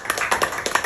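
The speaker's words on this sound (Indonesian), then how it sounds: "Boleh tepuk tangan buat Pak Santoso" An audience at a business marketing event gives a short burst of hand clapping, a handful of quick, crisp claps close together.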